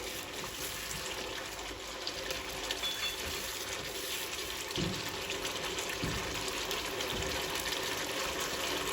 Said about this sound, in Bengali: অল্প পানি দিয়ে আমি মশলাটা খুব ভালো করে কষায় নিব